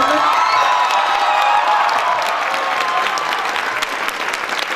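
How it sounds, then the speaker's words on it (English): An audience in an Indian college hall applauds an introduced guest with loud, dense clapping, some cheers and whoops mixed in, gradually thinning toward the end. "So can I get a huge round of applause for this person?"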